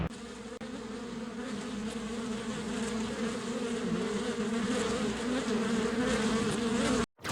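Swarm of killer bees buzzing, a dense continuous droning hum with steady wavering pitch, loud and close, persisting throughout before cutting off at the end.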